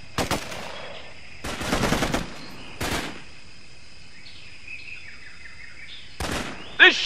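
Gunfire aimed at the player in the Xbox 360 game Raven Squad comes in several short bursts of rapid shots separated by pauses, over a faint background tone and birdlike chirps.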